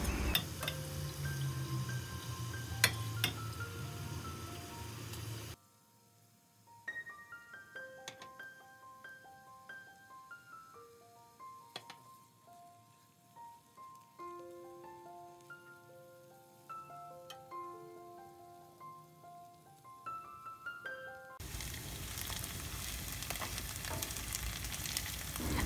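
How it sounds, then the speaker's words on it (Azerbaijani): Meat and greens fry together in oil in a pan, giving a steady close sizzle and crackle. It fades into near silence with faint scattered tones through the middle, then the sizzling returns toward the end. "ikisini bir yerdə yağda çeviririk"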